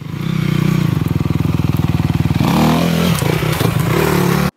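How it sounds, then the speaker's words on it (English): Dirt bike engine revving on a trail, a rapid pulsing idle that surges in a sharp throttle blip as the front tire lofts over a log, followed by clattering impacts and scraping as the back tire strikes it; loud and close. "You're gonna dump the clutch, hit a quick blip of the throttle, which will allow that front tire to loft up over that log."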